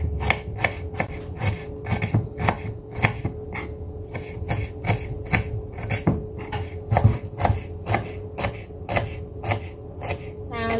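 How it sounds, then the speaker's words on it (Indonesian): Shallots are sliced with a knife on a cutting board, a steady series of crisp close taps repeating about twice a second, with some quiet background sound between cuts. "Terus ini saya mau ngiris bawang merahnya terlebih dahulu."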